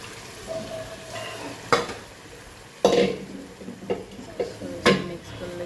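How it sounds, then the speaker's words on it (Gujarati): Mung beans stirred into sizzling tomato masala in a pan: a steady frying hiss under repeated sharp scrapes and clinks of a spoon against metal, close and fairly loud, with no talking. "સરસ મિક્સ કરી લઈએ."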